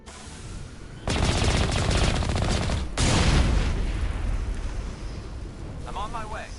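Heavy gunfire in Mass Effect, with loud automatic bursts crashing in after a quiet opening, a second blast-like surge, then fading, while a player talks over it.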